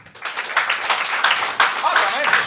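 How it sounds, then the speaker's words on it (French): An audience at a comedy show breaks into scattered clapping that builds into brief applause, with voices mixed in. "Par applaudissement, ceux qui connaissent Seb Bourgault."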